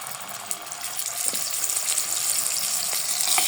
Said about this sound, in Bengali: মাছগুলো একদম মরমরা করে ভেজে নিব